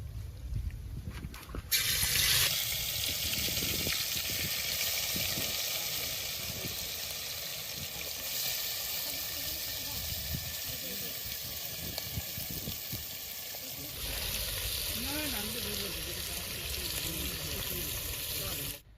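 Marinated country chicken hits hot oil and spices with a sudden loud sizzle that settles into a steady frying hiss, close by and broken by a few clatters and a lighter bubbling stretch near the end.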